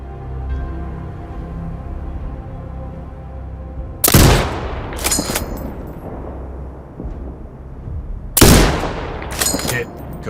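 Two loud sniper rifle shots in Sniper Ghost Warrior Contracts 2, each a sharp crack followed by a rolling echo and a quick mechanical follow-up, spaced about four seconds apart over a low game ambience.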